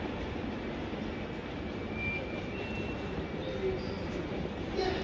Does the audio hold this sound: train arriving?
yes